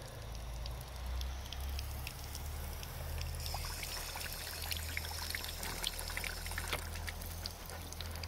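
Water flows steadily from a vintage Crane drinking fountain faucet, a soft continuous trickle and pour heard up close and fairly quiet, with no talk over it.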